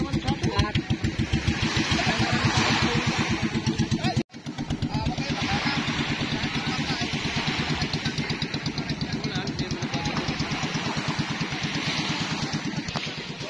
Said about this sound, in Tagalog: Isang click lang ang paandar ng bangka.